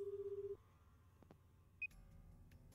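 Phone being dialed in the video game AI: The Somnium Files: a rapid series of dial tones, then quiet clicks and a single bright beep on a faint background.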